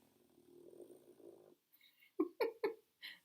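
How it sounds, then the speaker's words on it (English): A pet snores loudly nearby, first as a low rumbling purr-like drone for about a second and a half, then after a pause as three sharp, snorting snore bursts and a softer final breath. "He snores very loudly"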